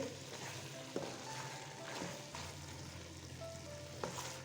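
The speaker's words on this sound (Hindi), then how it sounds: "अदरक के साथ इसको भूनते हैं 1 मिनट।" Ginger and boiled turnip frying over medium heat in a pan for shaljam gosht, with a soft, close sizzle and a few distinct scrapes and clinks of a spoon stirring, no voices.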